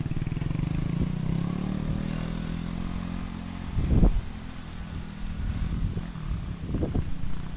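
A motorcycle engine idles and rumbles nearby, with revving surges and a steady low throb.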